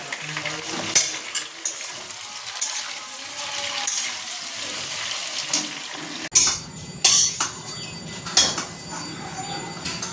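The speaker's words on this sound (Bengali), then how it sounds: "এই যে নিম আর শিম ভাজা হয়ে গেল" Neem leaves and beans sizzle and crackle in a hot pan, a continuous frying hiss broken by the clatter of a stirring utensil against the pan, with louder scraping knocks in the second half.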